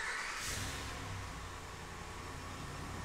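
Engine of a 2011 Dodge Ram remote starting, a steady mid-pitched running note with a brief rev near the start, heard at moderate distance without any voices.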